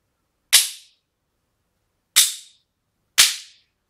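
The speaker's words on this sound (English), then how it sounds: "So when you hear this wooden clapper" Wooden clapper struck three times before zen meditation, sharp dry cracks in a quiet room, the first alone and the last two closer together, each dying away quickly into silence.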